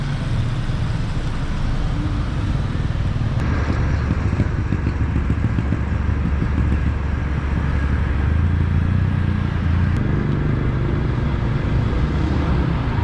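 At the Kajang Sentral bus terminal, a steady, loud engine rumble from buses idling and moving nearby runs continuously with no break.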